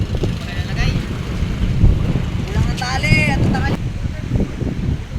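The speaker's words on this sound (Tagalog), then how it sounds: "Medyo malakas po ang hangin ngayon." Strong wind buffets the microphone aboard a fishing boat on choppy seas, a steady loud rush with low rumble throughout and brief whistling tones around the middle.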